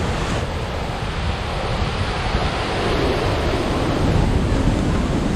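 Roar of the Rhine Falls waterfall at Schaffhausen, Switzerland: a steady, dense rush of falling water, loud and continuous, with some wind buffeting the microphone and no voices.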